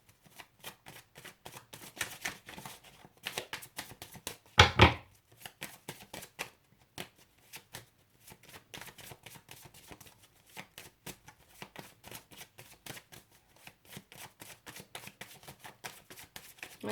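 Tarot cards being shuffled, a long run of quick crisp riffling and slapping clicks at close range, with one louder burst of flutter partway through and no talking.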